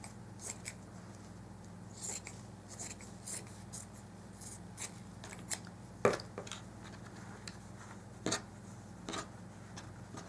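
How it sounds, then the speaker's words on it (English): Scissors snip through felt for a dollhouse bed, a series of quiet, crisp cuts in an uneven rhythm over a low steady room hum, close and unaccompanied by speech. "So I am going to cut more felt. I'm just going to hand cut it."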